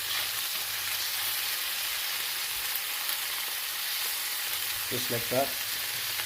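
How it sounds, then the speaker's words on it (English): Chicken sears in a hot pan with a loud, steady sizzle that fills the whole stretch, while a voice speaks briefly near the end. "As you can see, our chicken is getting seared properly."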